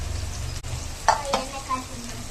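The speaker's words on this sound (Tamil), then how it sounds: "வெங்காயம் நல்லா ப்ரௌனாக வதங்கணும்." Onions frying in a pan for mushroom biryani, a low steady sizzle with a couple of brief stirring scrapes near the middle, close and fairly quiet.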